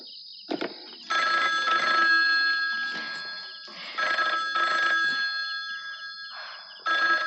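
An old-style telephone bell rings in repeated bursts of shrill electric trilling separated by short silences, loud and close, with a soft thump near the start, in an Indian feature film scene from 1987.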